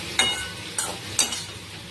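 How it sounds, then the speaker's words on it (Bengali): An egg omelette frying in a pan as it is flipped to cook the other side: continuous soft sizzling broken by three sharp bursts of spattering crackle, spaced evenly, with no talk. "এই পিঠটাও ভালো করে ভেজে নেবো"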